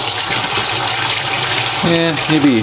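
Water from a spray bar pours steadily into a frog tank with a constant rushing splash, while a person speaks briefly near the end.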